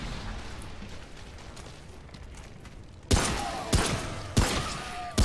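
Gunfire in the video game Remnant: after a quiet stretch, four sharp loud shots ring out at roughly even intervals, each with a short decaying tail.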